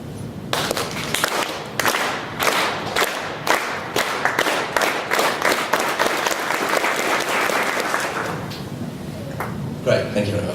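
An audience at a talk on smart drugs claps at random times, each person on their own beat, building into a loud, dense round-of-applause texture before thinning out toward the end.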